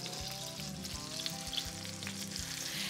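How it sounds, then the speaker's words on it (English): Two pounds of ground beef browns in butter in a pot over medium-high heat, a steady close sizzle broken by regular scraping knocks of a spoon breaking up the meat. "And I'll cook it over medium high, breaking it up with my spoon until it's browned"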